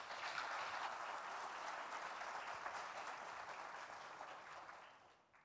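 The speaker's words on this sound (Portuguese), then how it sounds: "Uma salva de palmas, meus queridos" Church congregation applauding together, a dense, steady wash of clapping that holds strong for about five seconds before tapering off at the end.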